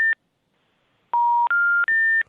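Touch-tone telephone dialing: a short DTMF beep, a pause, then three longer tones in quick succession, loud and clear with no talking.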